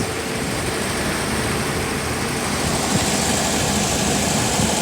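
A car engine idles steadily with the air conditioning running after a refrigerant recharge, a constant low rumble and broadband hum holding an even level throughout with no talk.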